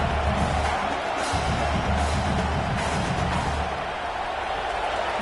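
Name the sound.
stadium crowd cheering at football game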